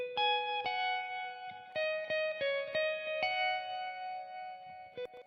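A clean electric guitar phrase repeats with echoing dynamic delay bouncing left and right, notes ringing and overlapping as repeats trail behind each pick.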